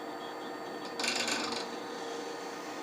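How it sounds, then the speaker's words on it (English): A hand drill with a 1/4 inch bit bores a small hole in a wooden gnome ornament, giving a short close rasping grind of about half a second over a quiet room. "I'm just going to use this hand drill, and 1/4 inch is what I've got."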